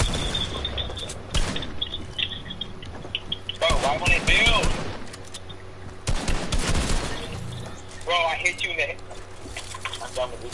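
Gunfire in Fortnite, bursts of rapid shots and scattered single cracks across the clip, loud and punchy, with a player talking throughout between and over the shooting.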